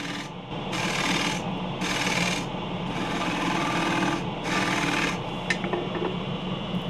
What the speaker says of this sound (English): back to the scraper to remove more wood from the bottom, or the top